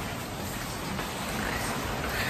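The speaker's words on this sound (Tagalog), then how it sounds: "Malakas talaga yung ulan niya at saka hangin." Heavy rain pours down in a dense, constant hiss with no letup.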